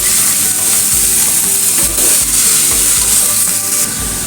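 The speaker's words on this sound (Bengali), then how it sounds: "हालका भाजा हये एलेই आमी बेगुन और आलू जो केटे रेखेছিলাম ওইটা দিয়ে দিচ্ছি।" Eggplant and potato pieces frying with onion in a pan for a Bengali dry fish dish, giving a loud, steady sizzle with periodic scraping stir strokes throughout and no talking.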